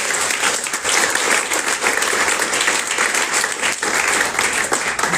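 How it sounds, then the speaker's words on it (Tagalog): A church congregation applauds the Lord during a worship service, a steady, loud wash of clapping from many hands that holds at full strength throughout without pause. "Tapos na palakpak sa Panginoon."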